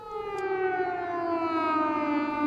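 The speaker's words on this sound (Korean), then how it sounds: "항구를 닫고 사이렌을 울립니다" A civil defense warning siren wails steadily in a horror film as a harbour town is shut down, a sustained loud tone slowly sliding downward in pitch, heard alone.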